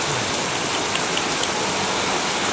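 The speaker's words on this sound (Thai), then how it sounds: "เสียงฝนเสียงดังแรงมากเลยนะครับ" Heavy rain pouring down during a thunderstorm makes a loud, steady, dense hiss of drumming drops that runs unbroken throughout, with no voices.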